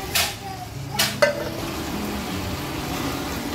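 Marinated mutton tipped into a hot pot for biryani, giving a few sharp clinks and metallic clanks of utensil on pot early on, then a low, steady sizzle and bubbling that continues.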